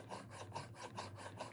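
A blade is drawn back and forth across a stone on a sharpening station to form a tertiary bevel, giving soft, rhythmic gritty rasps about every 0.4 seconds, close and quiet with no talking.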